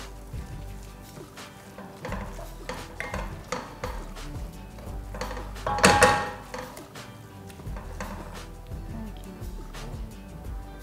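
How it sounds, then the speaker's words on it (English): Vegetable sauce being stirred in a pot after a pinch of salt goes in, with a utensil scraping and clinking against the pot in an uneven rhythm over a soft sizzle, close by and moderately loud. "Now I'm going to add a pinch of salt. And I'm going to stir this whole thing in."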